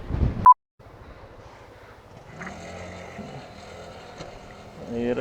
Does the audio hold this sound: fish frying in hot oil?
no